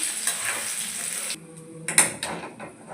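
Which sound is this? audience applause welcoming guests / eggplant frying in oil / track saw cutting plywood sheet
eggplant frying in oil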